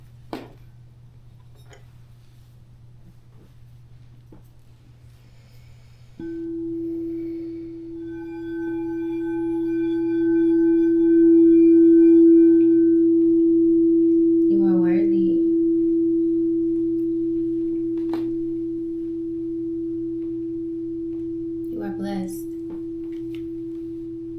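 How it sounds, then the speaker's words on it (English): Sustained sound-bath tones during a yoga final relaxation: a steady low drone joined by a ringing bowl-like tone that swells and holds, with higher shimmering partials and a couple of soft chime strikes, calm and continuous without talk. "And sound bath."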